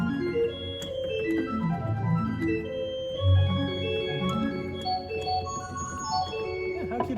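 Pipe organ sounding a Baroque-style registration of a 1 1/3-foot and an 8-foot stop together, a bright, piping melodic line with a steady sustained bass, continuous and fairly loud with no talking.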